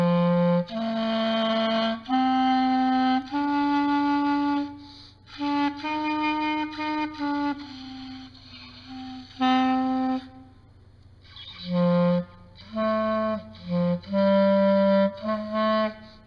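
A Champion woodwind instrument that still needs work plays a string of sustained, reedy notes at changing pitches, loud and close, with short pauses between phrases.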